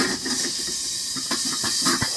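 Asparagus sizzling in a hot pan gives a steady, close hiss with faint crackles and a few soft pops running without pause.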